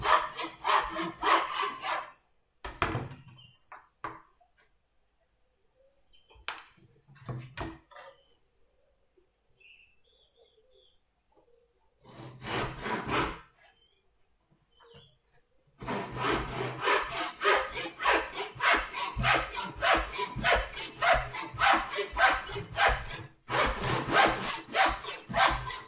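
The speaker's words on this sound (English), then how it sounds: "Cutting the triangular pieces here for holding the photographs." A hand saw cuts small triangular wood pieces for a picture frame, with rapid rhythmic rasping strokes in close bursts separated by pauses, ending in a long steady run of sawing.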